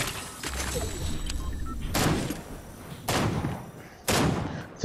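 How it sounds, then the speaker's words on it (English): Fortnite DMR rifle gunfire: three sharp, loud single shots about a second apart, each with a brief echoing tail, over steady in-game background noise. "No, it's a DMR. It's too quick for a sniper."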